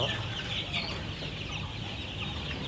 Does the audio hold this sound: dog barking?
no